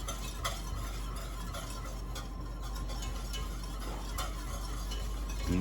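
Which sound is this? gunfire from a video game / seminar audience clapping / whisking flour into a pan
whisking flour into a pan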